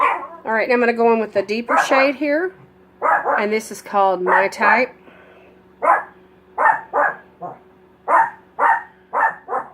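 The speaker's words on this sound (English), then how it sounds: "That's my dog, y'all." A dog barks repeatedly in sharp, evenly spaced bursts in the second half, after someone talks over a faint background hum.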